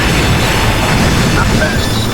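Dense, continuous explosions and roaring fire fill a shoot 'em up video game, loud and unbroken with no clear gaps.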